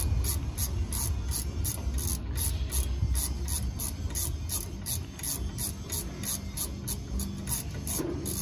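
Socket wrench ratcheting while tightening the brake caliper bolts on a 1998–2002 Honda Accord during a rear brake change, a quick string of close rhythmic clicks lasting several seconds with no talking.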